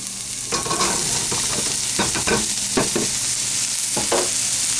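Mushrooms sautéing in a hot pan with garlic and onions for cream of mushroom soup, a steady sizzle broken by several scraping stirs of a utensil against the pan, close and fairly loud with no talking.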